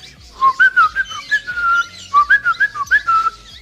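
A man whistles a short repeated imitation of a male cockatiel's call: two bursts of bright, rising and falling chirpy notes, clear, close and loud, with no talking.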